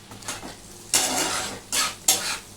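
Chopped ginger stirred and fried in a pan over a raised gas flame, heard as a low sizzle under a few loud bursts of utensil scraping and clattering against the metal pan.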